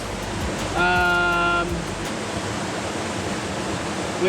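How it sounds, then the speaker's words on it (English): Steady broadband rush of a 30-meter waterfall in Vilcabamba, Ecuador fills the scene, with a brief tonal beep-like sound near the start over the constant roar. "This waterfall has a height of 30 meters,"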